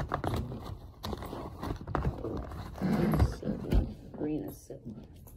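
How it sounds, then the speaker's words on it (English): Dogs fighting in the background during indoor Christmas stocking crafting, heard as rough growling and snarling bursts under steady close conversation. "The dog's fighting in the back."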